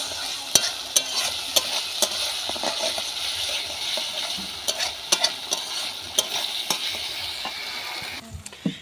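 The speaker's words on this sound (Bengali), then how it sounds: "মশলাটা সুন্দর করে কষে নিচ্ছি এখন" Stone-ground spice paste for tilapia curry sizzles in oil in a pan over a wood fire, with a continuous fry broken by regular scraping strokes of a stirring spoon.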